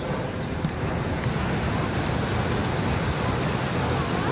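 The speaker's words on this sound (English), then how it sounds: "The beautiful historic Niagara Falls is behind me." The roar of Niagara Falls fills the air as a dense, steady broadband rush, loud and continuous, like heavy surf mixed with wind buffeting the microphone, with no talking.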